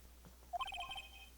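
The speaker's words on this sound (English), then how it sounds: "I really gotta download this fucking ringtone. What kind of ringtone is that? It's his own theme." A character's theme tune rings out as a phone ringtone in Phoenix Wright: Ace Attorney Trials and Tribulations, a short bright burst of melodic electronic beeps lasting under a second, fairly faint.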